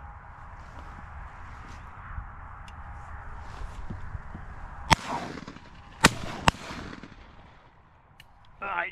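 Shotgun blasts ring out at an evening duck and snipe hunt outdoors, three sharp reports in quick succession against a steady low background rumble, fairly distant and not very loud.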